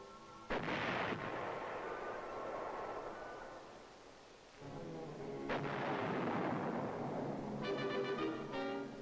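An artillery battery fires shells: two heavy booming blasts about five seconds apart, each followed by a long rolling rumble fading into the distance.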